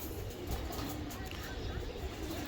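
Low, continuous cooing from young racing pigeons of a Janssen line, held close and steady over the whole stretch, with no clear pauses.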